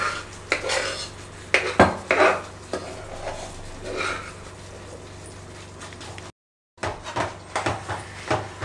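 Chana dal being stirred into jaggery syrup in a metal pan for sweet bobbatlu, with repeated close scraping and clanking of a spoon against the pan over a steady low hum.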